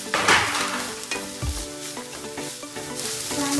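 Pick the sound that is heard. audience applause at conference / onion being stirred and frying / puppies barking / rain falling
onion being stirred and frying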